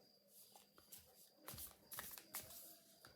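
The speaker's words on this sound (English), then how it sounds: "I feel like I should shuffle them before I put them back in" A deck of playing cards is riffled and shuffled by hand several times, with quick rustling bursts and soft snaps in a quiet room, close and fairly faint.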